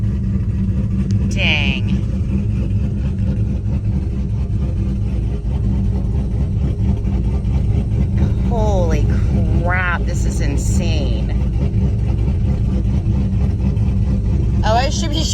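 A powerful SS Camaro or Shelby Mustang engine runs loud and steady up close with a deep, droning rumble that never lets up, while a person talks excitedly over it.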